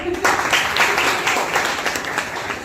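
An audience breaks into applause, a dense wash of clapping that holds steady and eases slightly toward the end.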